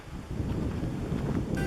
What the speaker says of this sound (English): Rainy, cold, and windy.